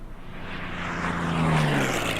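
A bomber's aircraft engine in the Order of Battle video game, set in the Winter War at Suomussalmi, gives a steady droning hum with a faint tonal whine. It swells slightly and holds for about two seconds with no talk.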